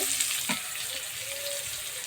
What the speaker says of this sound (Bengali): তেল গরম করে 5 ফোড়ন দিয়ে আলুটা ভাজতে দিয়েছি।